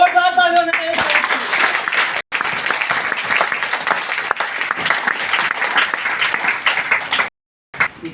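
An audience at a gathering claps loudly and steadily for several seconds after a brief voice at the start, with the applause cutting out in a couple of short gaps before it stops.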